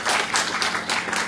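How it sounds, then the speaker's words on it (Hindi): Short burst of audience applause at a Hindi-Urdu poetry book launch, lively clapping in uneven waves. "तो उसके लिए जोरदार तालियां तो बनती हैं"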